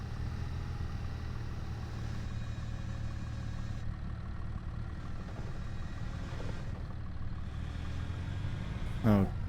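Tractor in a logging video game with its engine running steadily in a low drone, someone talking over it and a brief squeal near the end.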